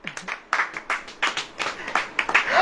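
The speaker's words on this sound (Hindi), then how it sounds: "ताली बजाइए" Worshippers at a Hindi-language sermon clap in short rhythmic bursts, about a dozen sharp group claps roughly a beat apart, fairly close and without talk.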